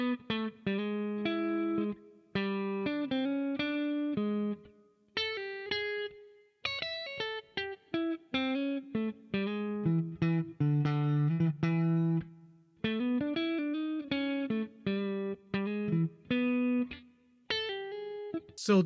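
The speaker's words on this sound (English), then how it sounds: "So that's what soloing using the chord tones can sound like in a blues progression." Distorted electric guitar plays a blues solo built on the chord tones of the progression, with phrased bursts of sustained, bent notes separated by short gaps, loud and close throughout with no talking.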